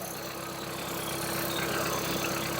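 A tractor engine idles at a steady, unbroken drone, moderately loud and close, with no voices.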